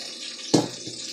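Two cups of water are poured onto a bouillon cube in a home kitchen, making a brief splashing gush that rises suddenly over a steady rushing background.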